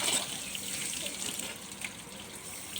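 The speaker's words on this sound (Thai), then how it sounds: "เดี๋ยวเราจะใส่น้ำในลูกโป่งเล็กก่อน" Tap water running steadily into a small water balloon indoors, a continuous hissing splash with no voices, steady at moderate level throughout.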